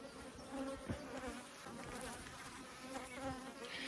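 A steady, dense hum of many honeybees buzzing together at an apiary hive, a queenless colony, wavering in pitch, with a few individual bees droning louder as they pass near. No voices.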